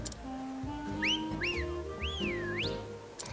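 A rising-and-falling wolf whistle in the video game Octopath Traveler: several sliding whistle calls, two short swoops followed by a longer arched one, clear and prominent over soft background game music.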